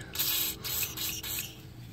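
A spray can hisses in several short, close bursts with brief pauses between them, steady and fairly loud, during replacement of a driver-side CV axle on a Nissan Rogue.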